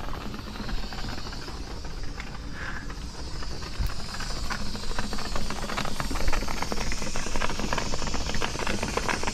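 A steady, loud hiss with rattling underneath builds over several seconds, like coolant boiling and venting steam from a Subaru WRX engine.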